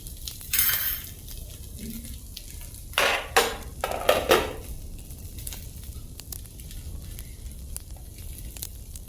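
Cheese corn is stirred in a pan, with a few short bursts of utensil scraping and clinking over a soft background sizzle. Between the bursts the sizzle carries on quietly.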